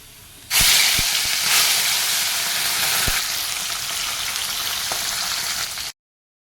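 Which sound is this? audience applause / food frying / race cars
food frying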